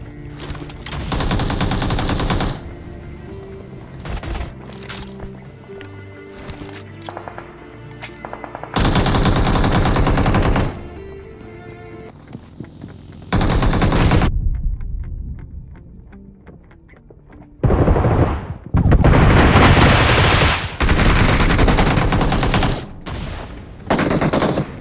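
Gunfire from a squad fight at a recall centre in the BGMI battle-royale game, with M4 rifle bursts, loud and close, in several long volleys broken by short quieter stretches.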